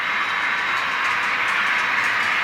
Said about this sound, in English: So the CB&Q freight train is led by a U-25B, and then there's 2 GP-20s and a GP-30.